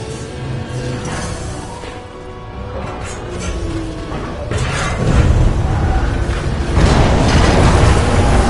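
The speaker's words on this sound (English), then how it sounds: "a series of explosions just weakened the manipulator arm" Deep booming blasts and mechanical rumbling roll through a dense, loud soundscape in Titanfall 2, swelling heavier toward the end with no talking.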